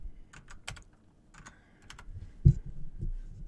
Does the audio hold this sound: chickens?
no